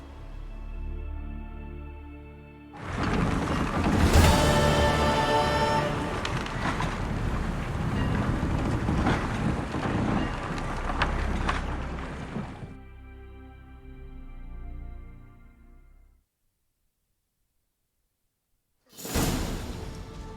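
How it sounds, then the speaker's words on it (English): Sailing off in the video game The Witcher 3, with a broad whooshing rush of wind and water over layered game music that swells, fades, cuts to silence and returns briefly at the end. "High time we set sail."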